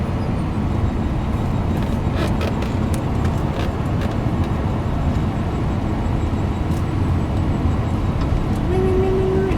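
A Lincoln Town Car fitted with Bilstein shocks cruises along a road, giving a steady, even cabin rumble of tire and road noise that holds at a constant level throughout.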